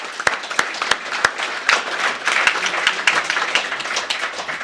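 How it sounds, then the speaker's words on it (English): A modest audience at a climate debate gives scattered applause, individual sharp claps standing out before blending into a looser, thinner round of clapping over about five seconds. "And so I encourage you to give Lindsay and his team a round of applause as well."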